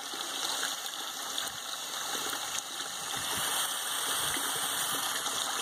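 Water from a hose flushes through the radiator of a Ford 8N farm tractor, a constant rushing, splashing stream close by with small gurgles, steady the whole time and without voices.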